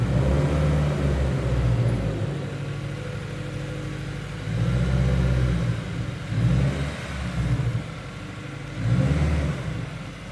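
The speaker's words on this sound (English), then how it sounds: "let's take it for a drive and let's see how it actually feels on the road" A 2015 Subaru WRX drives on the road, its engine rumbling steadily with several swells as it accelerates and revs, loud and close throughout with no talking.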